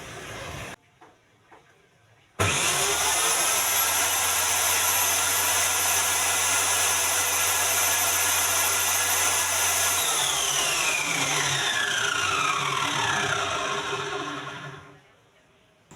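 An EDON 18-1851 circular saw starts abruptly and runs steadily at no-load speed with a loud, sustained motor whine, then spins down toward the end after a few faint handling sounds before startup.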